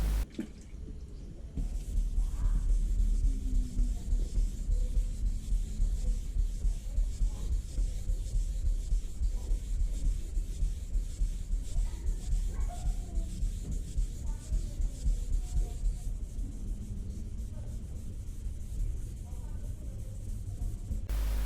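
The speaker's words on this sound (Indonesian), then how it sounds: "selanjutnya baru kita amplas halus ya, untuk amplas finishingnya sebelum dipoles ya" A steady, close wet rasping goes on throughout, fine sandpaper rubbed back and forth over a smooth car clearcoat before polishing, with faint watery sounds underneath.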